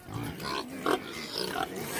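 Pigs held in farm pens and corrals give a few close grunts and a brief louder squeal-like snort amid a low, busy background.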